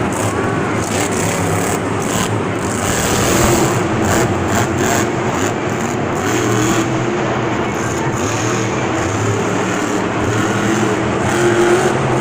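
Monster truck engines roar steadily at a Monster Jam event in Houston, a loud continuous rumble with revving surges blended with crowd noise and faint commentary.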